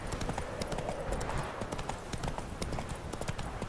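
Horse hooves gallop in The Witcher 3, a steady rapid clip-clop running throughout at close range, with game ambience and battle noise underneath.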